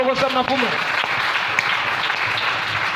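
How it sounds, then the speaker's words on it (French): A church congregation breaks into loud, sustained applause and cheering for the Lord after a preacher's voice, the clapping dense and filling the hall. "Est-ce qu'on peut acclamer le Seigneur?"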